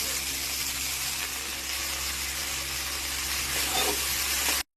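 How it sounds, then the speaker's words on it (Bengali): Leafy greens frying in hot oil left over from toasted cumin make a steady, close hiss and sizzle that holds evenly for several seconds before cutting off abruptly. "ভেজে নেবো শাকটা"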